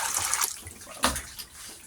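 Cassava root being rinsed with water, close splashing and sloshing with a sharper splash near the middle, then quieter dripping.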